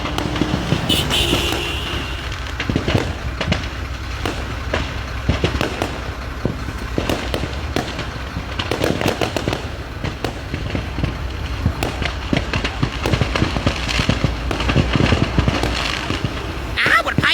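Dense crackling bursts of fireworks and firecrackers exploding from a truck load, popping continuously, loud and close, with engine noise and voices mixed in.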